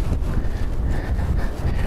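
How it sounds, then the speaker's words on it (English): Gusting wind at an outdoor shooting range, buffeting the microphone with a steady low roar and rumble for the whole stretch. "you can see the wind gusts we're dealing with today"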